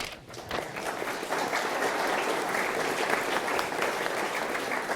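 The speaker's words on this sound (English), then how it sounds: "Please applaud." A crowd applauds at a Remembrance Day observance honouring cadets, giving several seconds of dense, even clapping that sounds broad and moderately distant.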